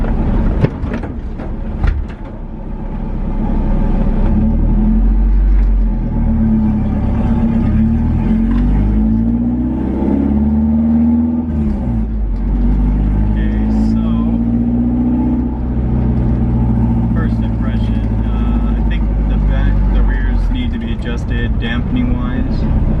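A Nissan 240SX fitted with rally-spec coilovers drives off, its engine droning and shifting pitch steadily throughout, with a person talking over the cabin noise.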